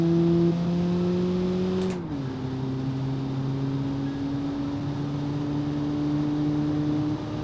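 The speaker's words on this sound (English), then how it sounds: "This is all full throttle, by the way, so it's pretty stable on the acceleration because it has no power." A simulated car engine in the BeamNG driving game held at full throttle gives a loud, steady droning tone that dips in pitch once, as if shifting gear, and then holds on alone.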